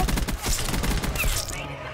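The PP gun fires in Black Ops 6, a fast, loud automatic burst of closely spaced shots that thins out toward the end.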